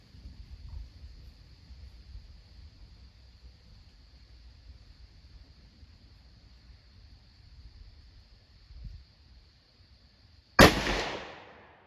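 A single loud, sharp rifle shot from a Glenfield 30 Scout cracks out near the end, after a long stretch of quiet outdoor background, with a brief fading tail.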